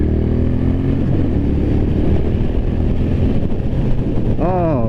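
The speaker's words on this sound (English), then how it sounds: "let's try some acceleration" A 2023 Triumph Bonneville T120 Chrome Edition motorcycle accelerates with a steady, close engine drone and rumbling wind buffeting, its pitch rising through gears near the end.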